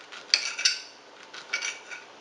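A knife cuts down through chicken sausage and spinach Alfredo on a plate, giving a few sharp clinks of metal on the plate followed by softer scraping, close and fairly quiet.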